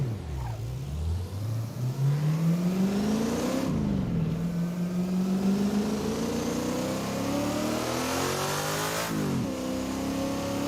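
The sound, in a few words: Mercury Cougar race car engine revving, from Assetto Corsa video game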